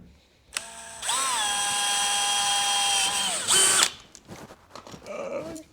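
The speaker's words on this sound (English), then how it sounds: "Drilled a hole in my boat." A power drill whines steadily for a few seconds while drilling a 3/16 hole in a kayak hull, its pitch dipping slightly, then briefly speeds up before stopping, followed by some handling clatter.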